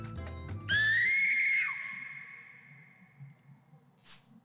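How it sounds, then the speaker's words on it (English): Stock woman's scream effect in the video game Gyromancer, a single loud, high, sustained shriek that bends downward and trails off, preceded by brief clicky sounds, with a short hiss near the end. "Stock women's scream sound."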